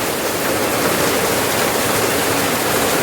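Rain pours steadily onto trees, a dense, even hiss that holds throughout without pause or voices.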